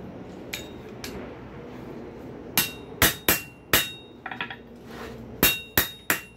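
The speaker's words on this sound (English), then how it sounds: "this is a soft-faced hammer" A soft-faced hammer strikes hot steel in sharp, ringing blows while forging a pintle hinge, single hits and quick pairs spaced irregularly, close by, with no talking.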